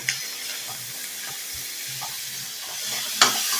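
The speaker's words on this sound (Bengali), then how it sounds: "হলুদ আর লবণ দিয়ে চিংড়ি মাছটাকে ভালো করে ভেজে নেব।" Prawns fried with turmeric and salt produce a steady, close hissing sizzle with soft stirring scrapes and a sharper spatter burst near the end, no voices.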